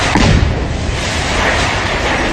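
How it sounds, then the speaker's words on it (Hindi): A loud, close blast as a house is blown up, heard in news footage: a heavy boom at the start rolls into a sustained roaring rumble of debris and noise. "इस तरह घर को उड़ाने के बाद जोरदार धमाका हुआ"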